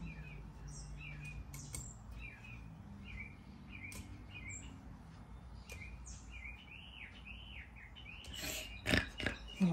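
A pet bird chirps and whistles indoors in repeated short rising and falling calls over a low hum, with a few louder knocks near the end.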